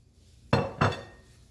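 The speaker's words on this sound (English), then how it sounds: "For all those tomatoes that we drained, drop them in the pan." Drained tomatoes dropped into a pan while making lasagna sauce land with two quick, close clattering impacts about a quarter second apart, then fade into quiet.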